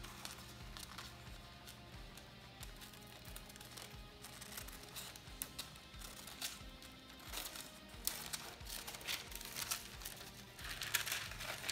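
Scissors or a blade cut a guitar shape out of a vinyl skin sheet, producing faint, close crinkling and rustling with irregular snips and crackles that grow busier toward the end, with no talking.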